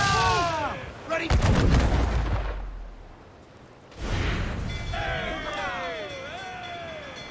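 Ship cannons fire in the naval combat of Assassin's Creed 4: Black Flag: a loud burst of booming shots is followed by a rumbling tail and a second round, with shouted voices and music over the battle.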